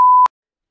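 A mobile phone gives a single short, loud, pure beep lasting about a quarter second, then goes silent.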